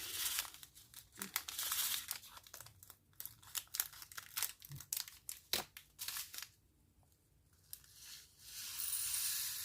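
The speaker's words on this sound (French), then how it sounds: "désolée pour le bruit de plastique hein" Plastic packaging crinkles and rustles up close in irregular bursts of crackling, with a short quiet gap before a steady stretch of rustling at the end.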